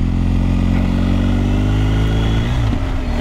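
A motorcycle engine warming up, recorded loud and close with a steady, buzzing mid-pitched drone whose revs shift slightly near the end, heard alone.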